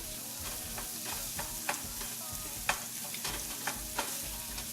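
Garlic frying in a pot for a lamb dish, a steady broadband sizzle with repeated sharp scrapes and clicks of stirring over about five seconds, close and moderately loud, no voices.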